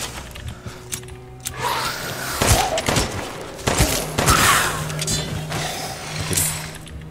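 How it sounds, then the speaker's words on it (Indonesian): Gunshots fired in the survival horror game Resident Evil Village, several loud sharp bangs spread unevenly through the stretch over a low droning game score and rumbling ambience. "Gue tembak lo."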